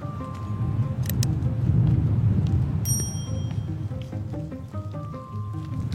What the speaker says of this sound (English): When you walk underneath the trees, it sounds like it's raining, and it's because of the amount of water that's getting collected on the leaves.